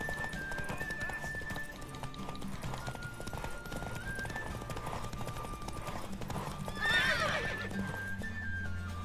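Horse hooves clip-clop at a steady gallop over a game soundtrack of music and ambience, with a loud neigh about seven seconds in during a horse race in The Witcher 3 video game.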